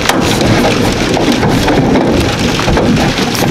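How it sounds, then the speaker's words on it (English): Heavy rain pours steadily throughout during a hot storm, a dense, loud wash of drops drumming on roofing and gutters with no pauses and no speech. "Ah, here comes the rain, it's hot and heavy."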